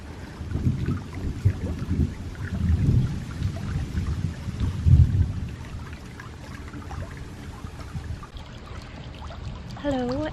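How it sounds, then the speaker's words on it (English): Thunder of an approaching storm, heavy low rumbles rolling in several swells over the first half and then fading to a quieter background, with a faint whistling tone at the very end. "not sure if you guys can hear the thunder"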